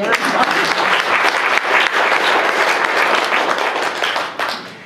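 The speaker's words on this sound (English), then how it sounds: "Let's clap for that" An audience breaks into applause, a full, continuous burst of clapping from many hands that holds steady and then tapers slightly at the end.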